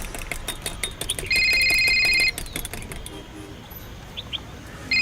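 A phone rings in a short-film scene, giving one electronic tone burst of about a second and another starting at the end, over faint outdoor background sounds and occasional chirps.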